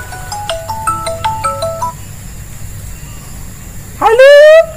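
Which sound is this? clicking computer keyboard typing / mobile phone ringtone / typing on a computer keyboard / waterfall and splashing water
mobile phone ringtone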